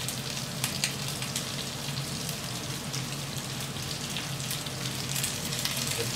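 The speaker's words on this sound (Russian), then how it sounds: "Капусту нужно обжарить сильно" Cauliflower sears hard in a hot pan, a dense, steady sizzle with scattered crackling pops, close and continuous, with no voices.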